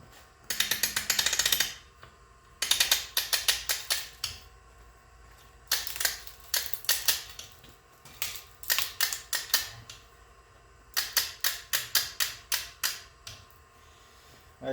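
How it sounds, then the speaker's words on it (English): A spring compressor on a Kia Sorento front strut spring gives rapid bursts of ratcheting clicks, loud and close, repeated in several runs with short pauses between. "the spring compressor is compressing the spring and it's holding all the tension"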